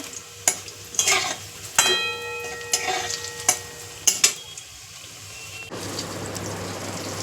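Soybean muitha fries in a pan with a steady soft sizzle, punctuated by several sharp spatula scrapes and taps against the pan, close by.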